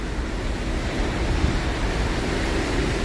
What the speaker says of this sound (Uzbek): Mana to'lqinlanyapti